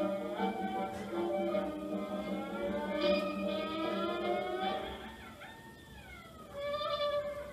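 Old-style New Orleans jazz horns play Livery Stable Blues with sliding, wobbling tones that mimic horse whinnies and neighs, loud and continuous with no talking.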